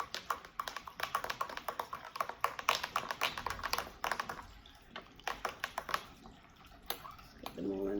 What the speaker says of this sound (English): I like to give it a quick stir, just to make sure that all the dried herbs are covered with water